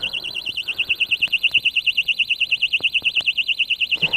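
A Kovix disc lock alarm on a motorbike, set off by an attempted theft, blares a loud, continuous high warbling siren that pulses rapidly and evenly from start to finish.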